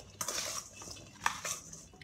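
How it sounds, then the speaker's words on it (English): Potato pieces tossed with oil and seasoning salt are stirred in a bowl, with a few close clinks and scrapes of a utensil against the dish over a short burst. "give them a stir to try and get the oil around all the different pieces of potato."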